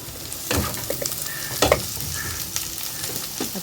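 Onions being stirred and sautéed in a pan while cooking sinigang sa miso with pink salmon, giving soft sizzling with a few louder scraping stirs, close and without talk.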